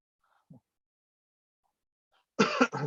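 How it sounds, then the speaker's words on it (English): A single loud, harsh cough bursts out near the end after mostly quiet, with a few faint small noises earlier. "It's like I don't cough all day"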